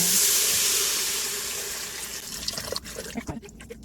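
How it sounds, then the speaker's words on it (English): Four cups of filtered water pour into a cooking pot for a golden vegetable curry. The pour starts loud and close, fades gradually, then ends in a few scattered drips and light clinks. "So I've got about 4 cups of filtered water. So I'm just going to add that in."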